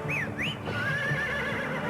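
A horse whinnies in a show's theme intro, a loud rising and falling neigh followed by a long wavering high tone, with faint hoofbeat-like clopping beneath.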